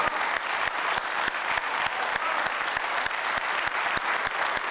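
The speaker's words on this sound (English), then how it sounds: "Give yourselves a warm round of applause for the people who have for our flag." A crowd claps in a warm round of applause at a gathering, the sound full and continuous with a few sharper individual claps standing out, steady and close for several seconds.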